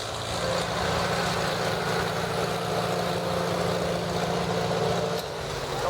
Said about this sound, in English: Here's a 1936 John Deere B